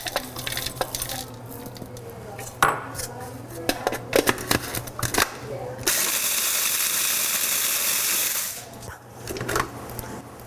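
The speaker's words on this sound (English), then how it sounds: "I'm going to grind them up in the food processor for just a second" A food processor grinds wasabi peas in a loud, steady whir lasting about two seconds, preceded by clattering and knocking as the bowl is loaded and followed by more handling noise.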